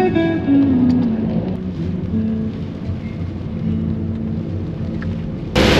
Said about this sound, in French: le départ de Grand Bassam se fait sous la grande pluie